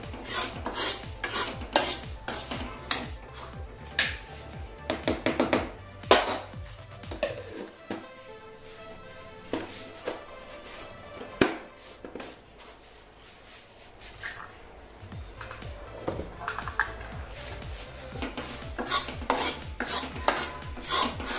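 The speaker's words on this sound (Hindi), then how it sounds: "और फिर थोड़ा और चलाएं तो आपका हलवा हो जाता है तैयार" A spoon or spatula stirs besan halwa, gram flour cooking in ghee, scraping and knocking against the pan in a steady, repeated rhythm, close and fairly loud, with no talking.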